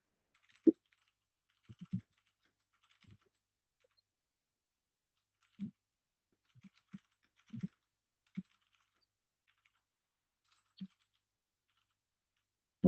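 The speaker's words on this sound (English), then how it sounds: "Let me write this down." Sparse keystrokes on a computer keyboard while notes are written down, about a dozen isolated taps scattered irregularly with long silent gaps, soft and close.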